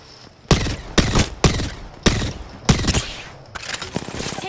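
Loud, close bursts of automatic gunfire from Apex Legends, six sharp volleys of rapid shots separated by brief pauses, ending in a denser trailing burst.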